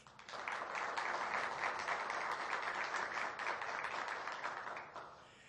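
Audience applause welcoming Luiz Alberto Garcia, president of Febratel, at the FORTE 2008 opening ceremony; a steady wash of clapping that swells in, holds evenly at moderate distance and fades toward the end.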